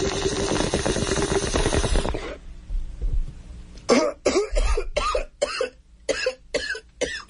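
Bong hit: a long steady hissing inhale that cuts off abruptly, followed after a pause by a run of harsh, repeated coughs and throat-clearing bursts.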